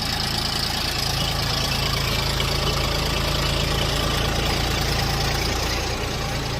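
A Bulat TU244 four-wheel-drive mini tractor with a three-cylinder engine idles steadily and loudly nearby, a constant low chugging rumble with no breaks.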